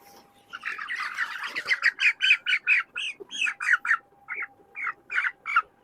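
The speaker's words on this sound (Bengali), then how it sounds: "এটা হচ্ছে স্মল টু, এই পেনের মুরগগুলা।" Broiler chickens about 52 days old call from a farm pen in a series of repeated squawking clucks, close and fairly loud, with short pauses between the calls.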